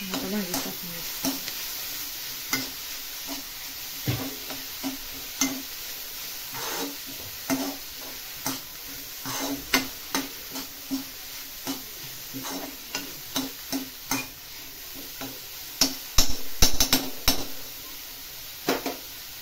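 Chopped bhangri leaves, a wild leafy vegetable, go into a pan of hot oil with crushed peanuts and are stirred, giving a soft sizzle under repeated scraping and clinking of a spoon against the pan.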